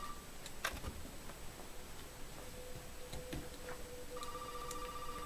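A telephone rings faintly in Resident Evil 7 on PS4, with a few thin repeated rings and ticking tones set under a low, steady game ambience.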